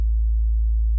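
A synthesized sine wave used as the starting point for bass sound design drones as a steady, pure low tone for the whole second and ends in a short burst of broadband noise.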